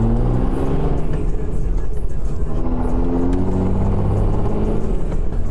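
A 1989 Mercedes 500 on the road, its engine a low, steady rumble with continuous road and cabin noise heard from inside, loud and unbroken throughout.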